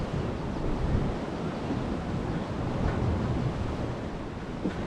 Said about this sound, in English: it's 30-35 mile an hour today, so I won't want to be up there in this wind